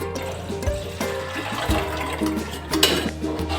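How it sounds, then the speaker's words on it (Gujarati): Cooking water saved from boiling cowpeas poured into a pot of cowpeas for gravy, a close splashing pour with light clinks of a metal vessel, steady over a few seconds. "ચોળામાં આપણે પાણી રેડવાનું છે"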